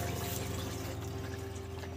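Milk poured steadily from a vessel during sandesh making at home, a continuous close liquid splash and trickle with a low steady hum beneath, no voices.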